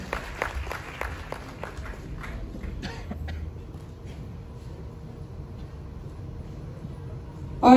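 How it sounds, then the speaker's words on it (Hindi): An audience at a Human Rights Day event applauds, with a burst of scattered claps that thins out to sparse claps and faint room noise, ending with a sudden louder bump. "तालियां बजाते रहेंगे सर, आइए।"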